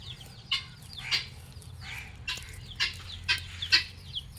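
Chickens at a rural home during a Pongal celebration, clucking in short bursts about every half second, fairly close and clear over a low background hum.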